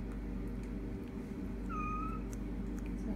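Tabby foster kittens give a single short, clear meow partway through, heard close over a steady low hum of room noise.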